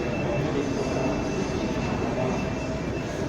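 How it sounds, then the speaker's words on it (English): Dubai metro train running, a loud steady rumble and roar heard from inside the carriage with a faint squeal, under quiet background voices. "A lot of scenery in the metro."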